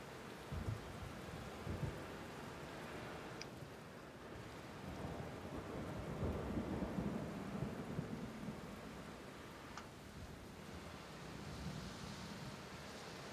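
Steady rain with rumbling thunder during a thunderstorm near a house with a garage, a continuous even wash of rainfall and low distant rolls, no voices.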